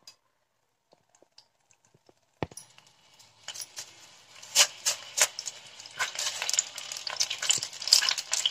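Oil heating in a kadai on a stove for tempering, as part of making pumpkin flower thuvayal: after a quiet start, sharp crackles and spits of hot oil build into a steady, close sizzle.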